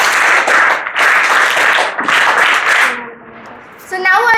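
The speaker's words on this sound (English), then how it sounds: "give them a thunder of applause for our guests" An audience at a school Teachers Day function claps for its guests in three loud bursts separated by brief dips. The clapping then fades, and a tonal, musical sound comes in at the end.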